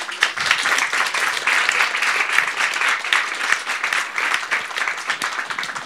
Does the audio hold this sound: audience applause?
yes